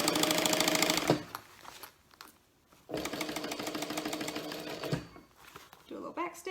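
A sewing machine stitches a bag in a home sewing room, running in two loud bursts of rapid mechanical whirring with a quiet pause between, then a short backstitch at the end.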